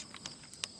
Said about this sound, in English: Oh, there goes the nut.